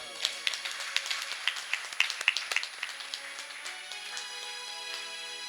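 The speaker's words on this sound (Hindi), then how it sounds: "चलिए एक बार जोरदार ताली" A group claps at a yoga session, a quiet, scattered burst of hand claps that tapers off within a few seconds.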